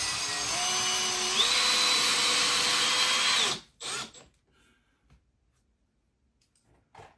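A power drill drives 3-inch exterior deck screws through wood for a cast iron rack, a loud steady whine with a pitch shift that runs for about three and a half seconds, then a few faint clicks and handling noises.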